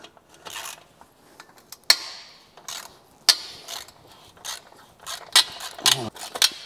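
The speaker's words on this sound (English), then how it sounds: "So 10mm socket and a small extension." A socket wrench with a 10mm socket and small extension ratchets on a rusty, seized exhaust bolt on a Caterham, giving a series of close, crisp clicks in irregular bursts.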